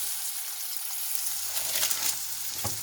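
Ground beef patties hitting a hot pan of cooked butter for a homemade Big Mac crackle into a steady close sizzle with a few sharper pops and spits, no voices.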